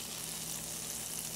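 Unsalted butter, about a tablespoon and a half, melting in a hot pan as the base for a roux, giving a steady, close, soft sizzle and gentle crackle that holds evenly throughout with no talking.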